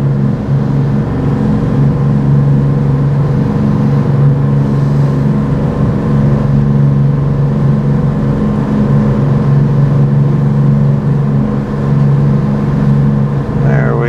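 A motorboat engine crossing Oneida Lake, a loud, steady low drone that holds close and constant throughout with a slight rise in pitch.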